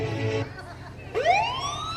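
Ambulance siren in a staged Tamil drama, a rising wail sweeping upward loudly after a sustained tonal sound cuts off, close and prominent with no speech over it.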